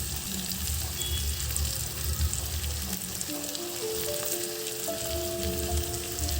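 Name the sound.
mutton frying with ground spices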